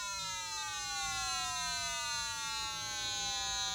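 Game Boy sound test emitting a continuous harsh electronic tone, a stack of buzzy harmonics that slowly glides downward in pitch, fairly quiet and steady over a faint background hiss.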